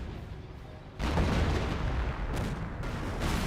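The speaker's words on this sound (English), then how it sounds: "Mortar getting more hits there." Mortar shells landing on targets in the World War II strategy game Company of Heroes, a heavy muffled impact that bursts in after a quiet moment and rumbles on with smaller distant booms.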